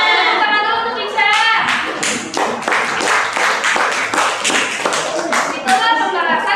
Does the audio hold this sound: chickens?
no